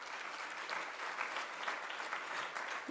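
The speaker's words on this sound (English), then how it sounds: "Can we give a round of applause to her?" An audience at a G20 Africa investment summit applauds, a faint, steady patter of many hands heard from a distance.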